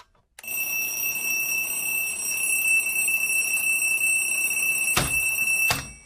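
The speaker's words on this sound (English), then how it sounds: "once that alarm goes off" A loud, steady electronic alarm beeps continuously at one high pitch, starting abruptly after a brief silence and holding for several seconds, with two sharp clicks near the end.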